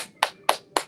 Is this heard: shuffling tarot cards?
no